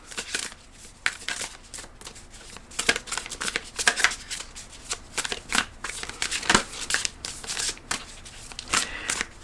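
A deck of tarot cards is shuffled by hand, giving a string of crisp riffling bursts and papery flicks in an uneven rhythm that is close and fairly loud throughout, with no voice over them.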